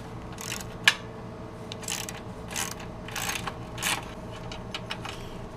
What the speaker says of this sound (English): Now you'll need your 13mm socket and undo our net here.